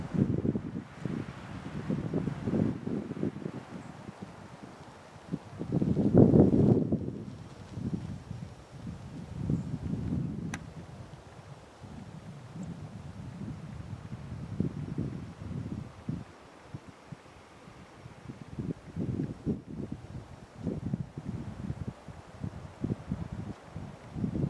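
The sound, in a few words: wind on mountain hiking trail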